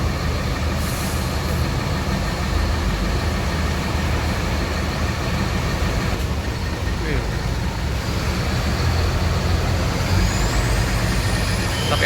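A Sinar Jaya 10DD double-decker bus pulls out of a depot, a continuous loud diesel rumble with traffic noise around it and the hiss of air brakes.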